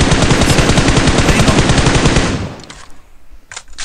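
Rapid automatic gunfire in the mobile battle-royale game PUBG Mobile, a loud sustained burst for about two and a half seconds that cuts off, followed by a few faint scattered shots.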